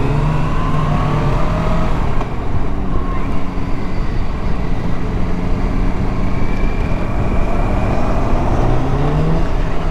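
Kawasaki RS900 motorcycle being ridden at an outdoor demo day, a loud continuous engine drone with wind rumble and a slowly shifting pitch as it revs, steady throughout with no clear speech.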